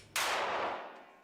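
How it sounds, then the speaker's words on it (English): A single sharp gunshot at a shooting range where South African women train with firearms, a sudden loud crack followed by a long fading echo with no talk. "The sound of gunfire is usually associated with crime."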